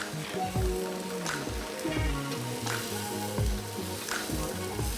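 Sauced country style ribs sear on a hot cooking surface, hissing and crackling in a steady, close sizzle with scattered pops and a few clinks of utensils, and no talking.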